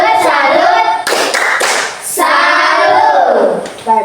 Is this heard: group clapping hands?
yes